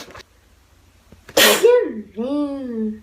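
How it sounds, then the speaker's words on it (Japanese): A single sharp sneeze from a woman, loud and close, cutting through a quiet room and followed by her talking. "くしゃみ出そう。"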